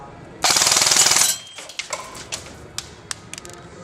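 A Classic Army airsoft rifle running on an 11.1V battery fires one loud, rapid full-auto burst of just under a second, then goes quiet apart from a few scattered clicks and handling knocks.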